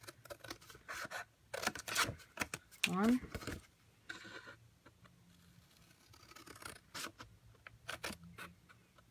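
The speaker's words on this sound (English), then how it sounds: "I like to grab my bigger scissors because I feel like I cut straighter in a line with a long scissor" Long craft scissors snip through card stock in a few short, crisp cuts, faint and close, amid quiet rustling and a voice speaking.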